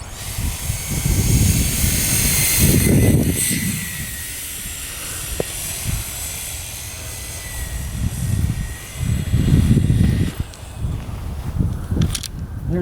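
A Kappa 35 model aircraft, flown with flaps available for slow, docile passes, buzzes overhead in surging waves of engine or motor noise that swell and fade as it passes repeatedly, fairly loud with steady background hiss.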